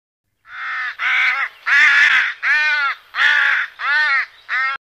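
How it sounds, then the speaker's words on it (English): A rook calls in a series of seven loud, harsh caws, each lasting about half a second, evenly spaced and close, with no other sounds around them. "Rook."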